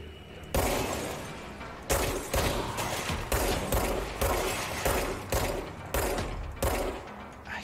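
Bursts of gunfire in the game Control, roughly a dozen loud, sharp shots fired one after another at a steady pace, each with a brief crashing decay and no talk over them.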